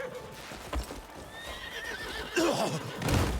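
A bucking horse in the Crimson Desert video game neighs loudly with a rising, wavering whinny, while hoofbeats clop in an uneven rhythm and grow stronger toward the end.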